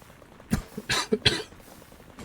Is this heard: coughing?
yes